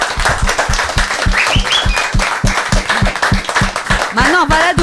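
A small crowd at a French village summer festival claps for a young musician, a scattered rhythmic clapping close by, with people talking and cheering over it.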